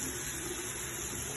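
Running water from a tap flows steadily as a face is wetted for a morning scrub, a brief, soft, continuous splashing hiss.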